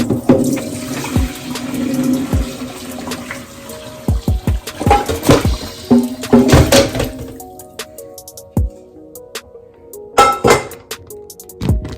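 Beef bone broth pours and splashes through a strainer into a bowl in uneven bursts, with sharp clinks and knocks of utensils between the gushes, close by.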